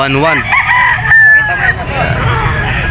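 An AA Cobra gamefowl rooster at the Grotto pet market crows loudly and close, one long rising and falling call over a busy, noisy market background.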